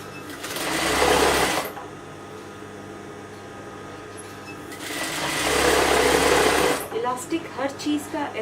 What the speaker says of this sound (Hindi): इलास्टिक के लिए आप इसको सारा पहले एक सिलाई मशीन से मार लो